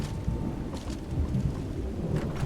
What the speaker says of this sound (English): Oh, that was loud thunder.